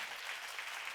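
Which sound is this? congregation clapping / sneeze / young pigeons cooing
congregation clapping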